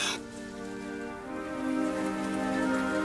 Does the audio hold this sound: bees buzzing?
no